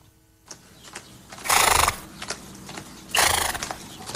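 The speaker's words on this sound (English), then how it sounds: "I guess he's walking a horse." A horse whinnies loudly twice, long bright neighs, between scattered hoof clops on a hard surface nearby.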